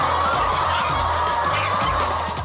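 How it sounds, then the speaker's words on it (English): A crowded barn full of chickens keeps up a dense, continuous din of overlapping clucks and squawks, loud and steady throughout with no pauses. "Ross, your chickens are certainly making a lot of happy noises"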